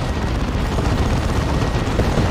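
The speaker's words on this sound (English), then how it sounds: "They're getting hit by the D-Cannon as well, those guys." D-Cannon blasts in a Warhammer 40,000: Dawn of War 2 3v3 match, a loud continuous rumbling wall of explosions and battle noise with no clear gaps between impacts.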